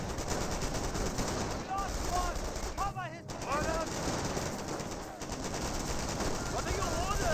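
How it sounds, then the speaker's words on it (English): Machine gun fire in the World War II strategy game Company of Heroes, with rattling bursts and battle noise dense throughout, while a commentator's voice runs over the gunfire. "Incoming gunfire."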